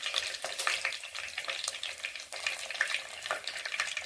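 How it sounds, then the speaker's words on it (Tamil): Onion, curry leaves and green chili frying in oil with popped mustard seeds for a fish curry, a steady close sizzle with crackling spits and occasional stirring, no voices. "கடுகு பொரிச்சிருச்சுங்க. வெங்காயம் போட்டுக்கலாம். கருவேப்பிலை போட்டுக்கலாம். பச்சை மிளகாய் போட்டுக்கலாம்."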